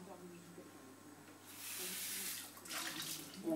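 Scallops are rinsed under a running tap, a soft gush of water that starts midway and swells with a second burst at the end, faint and close.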